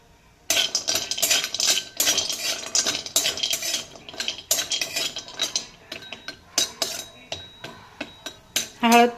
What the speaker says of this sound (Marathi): त्याच्यावर सर्वप्रथम आता हळद परतून घेऊया.